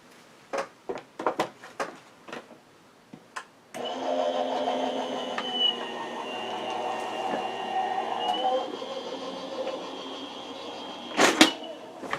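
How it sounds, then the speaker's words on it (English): A bulky die cutting machine running through paper, a sustained mechanical whirring drone after several scattered handling clicks, ending with a couple of sharp knocks; no talking. "So I will cut this in my die cutting machine"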